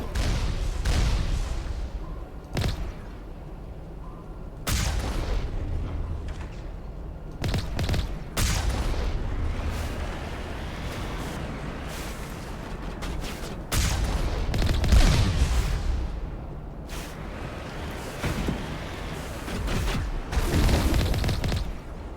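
Turrets firing in Mass Effect Legendary Edition, irregular heavy booming bursts and blasts that come and go over a continuous rumbling battle backdrop, loud and near.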